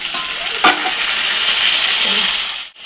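Fish curry and potatoes frying in a wok give off a steady, close, dense sizzle, broken by a brief clatter of stirring near the start and a short dip at the end.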